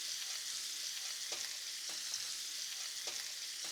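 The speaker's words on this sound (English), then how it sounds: "So I'm gonna add a few tablespoons of butter to my cast iron skillet" Rib eye steaks sizzling in melted butter in a cast iron skillet, a constant close hiss with periodic soft scraping or stirring knocks, no voices.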